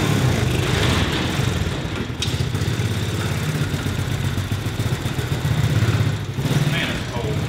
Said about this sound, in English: Sounds like it's backfiring through the carburetor.